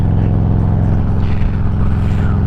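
A motorcycle rumbles steadily on a sunny road ride in Georgia, a close, loud low engine drone holding even throughout.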